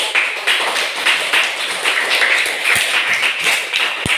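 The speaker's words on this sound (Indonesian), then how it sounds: "Iya, tepuk tangan dulu." A group clapping at a Bible reading session, a dense, fairly loud patter of hands that continues steadily for several seconds without speech.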